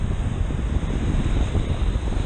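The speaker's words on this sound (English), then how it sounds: "these waves are relentless" Ocean waves break on a Gulf-coast beach in a continuous broad roar, with wind buffeting the microphone throughout and no voices.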